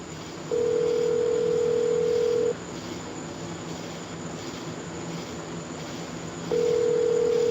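A telephone ringback tone sounds as a steady electronic beep lasting about two seconds, then a long silent gap, then the tone starts again near the end, over a faint room hum.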